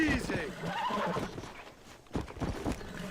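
Horse neighing and snorting while being broken in Red Dead Redemption on Xbox Series S, a loud close whinny followed by agitated snorts and hoof clops, with people talking over it throughout.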